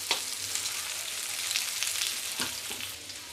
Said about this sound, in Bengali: তো করলা আর আলু প্রায় অর্ধেক ভাজা হয়ে গেছে, আর একটু ফ্রাই করব